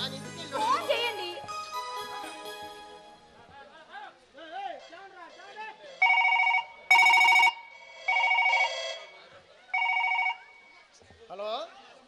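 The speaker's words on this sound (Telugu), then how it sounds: "ఫోన్ చేయండి, దాని ఇంటికి వెళ్ళి ఫోన్ చేయండి" A telephone rings in a Telugu stage drama with four loud, evenly spaced electronic rings that start after a stretch of speech from actors, including a voice.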